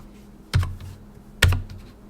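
Two distinct keystrokes on a computer keyboard, spaced about a second apart, each a sharp close click with a short thud, with quiet room tone between and no talking.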